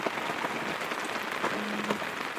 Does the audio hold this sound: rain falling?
yes